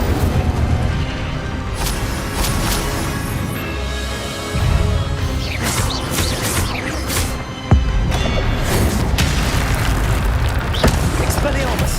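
Booming fire spell blasts from an Incendio cast in the Hogwarts Legacy video game, a loud crackling burst that swells twice amid continuous busy game noise, with a sharp hit near the end and a voice shouting underneath.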